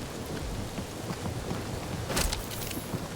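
Rain in a Marvel's Guardians of the Galaxy game scene falls as a steady, hissing wash throughout, with a louder burst partway through.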